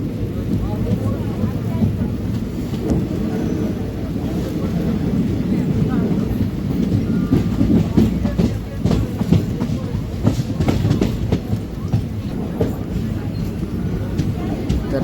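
Train running on the rails near Jalna railway station, a steady rumble with rhythmic clickety-clack, while someone talks throughout.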